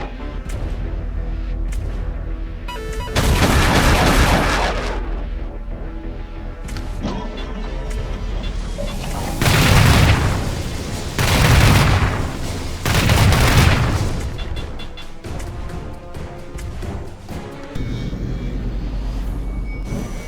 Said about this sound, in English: these are the anti-ship missiles of the destroyer.